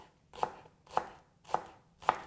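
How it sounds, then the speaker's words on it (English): Four evenly spaced knife chops cut through green onion stalks on a cutting board, each a crisp, close thud in a slow, steady rhythm with quiet gaps between. "So I'm going to go ahead and just chop up the whole stalk"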